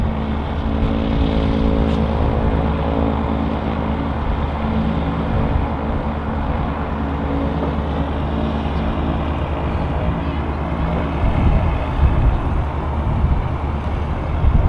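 A 42-year-old Cessna 172 light aircraft, registration G-Boyle, runs its engine at Manchester City Airport, a steady loud droning hum with a low propeller rumble that holds throughout, swelling slightly near the end.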